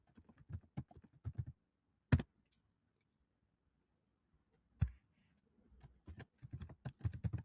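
Keys clatter in short bursts on a computer keyboard as a username and password are typed, with quick close clicks, a couple of sharper isolated taps, and a pause in the middle before more typing.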